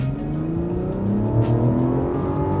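A Mazda CX-60 SUV engine revs hard and climbs in pitch as it accelerates on a closed course, loud and close, with a steady rising roar throughout.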